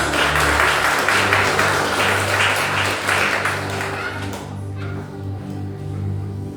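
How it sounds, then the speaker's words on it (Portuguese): Congregation applause in a Brazilian church service, a burst of rhythmic clapping over a sustained keyboard chord that fades after about four seconds, leaving the music playing alone. "Vamos receber a serva de Deus com palmas para Jesus?"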